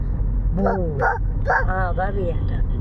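A child mimics a dog barking, giving about five short yappy woofs in quick succession over a low background rumble.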